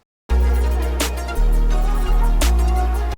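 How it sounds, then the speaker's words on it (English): A programmed hip-hop beat with an offbeat snare pattern cracks sharply over deep 808 bass notes and steady hi-hats, looping loud and dry after a brief silent start. "Now the snare pattern would normally sound like this."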